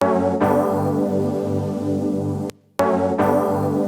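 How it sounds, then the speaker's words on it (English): Melted Vibes, a Komplete 14 instrument, plays with all its parts layered into a sustained, warm, shimmering chord bed with soft pulsing repeats. A short gap of near silence breaks it before the sound returns. "let's see what melted vibes when they're all in"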